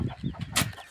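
A hen gives a few short, soft clucks close by, ending in a brief rustle, with no talk.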